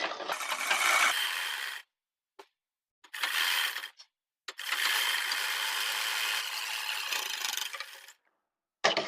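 Sewing machine stitching the seat seam of a pair of trousers, running in several bursts of steady whirring separated by short silent pauses, close and fairly quiet, with no voices.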